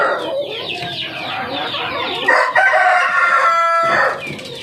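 Several hens, kept alongside a rooster, cluck and chatter close by in a flock of poultry, with layered, overlapping calls that grow louder midway, and no talk over them.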